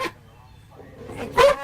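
A man imitates a dog with his voice, giving a short loud bark-like burst near the end after a mostly quiet stretch, heard close up.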